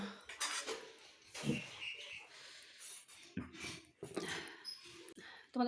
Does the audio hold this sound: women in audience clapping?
no